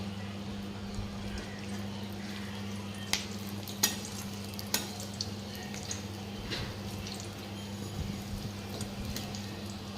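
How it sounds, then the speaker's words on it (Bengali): Pieces of pointed gourd fry in a pan with a soft, steady sizzle, broken by a few sharp utensil taps and stirring clicks over a low background hum. "পটলগুলো আগে ভেজে নিই"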